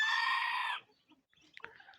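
A newly arrived rooster crows loudly and close, one long sustained call, followed by a quiet gap and then scattered soft clucks and brief sharp squawks from hens nearby.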